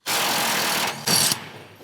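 An impact wrench loosens the nuts on a rear bumper support truss of a 2019+ Chevy Silverado 1500, a loud close buzzing hammer that runs about a second, drops, then bursts again briefly before winding down.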